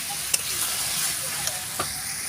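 Meat sizzles steadily as it is stir-fried in a pan, a close, continuous hiss broken by a few light taps and scrapes of the stirring utensil, with no talk.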